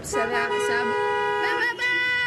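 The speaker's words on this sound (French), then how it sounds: "ça c'est Beyrouth, c'est la conduite au klaxon en fait." Car horns honk in busy Beirut street traffic, sustained, overlapping blasts sounding close and fairly loud for a couple of seconds with only brief dips.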